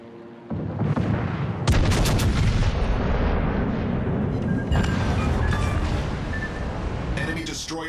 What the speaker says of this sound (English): Destroyer blown up.